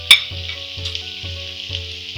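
Finely chopped tomatoes sizzle loudly in hot oil in a frying pan while a Nepali-style chicken curry cooks, a steady bright hiss with a sharp splash at the start and repeated soft stirring scrapes.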